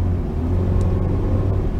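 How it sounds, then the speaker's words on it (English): A 1.5-liter Toyota Rush engine running while driving, a steady low rumble and hum heard from inside the cabin, constant and fairly loud throughout. "Naririnig nyo ba yung makina?"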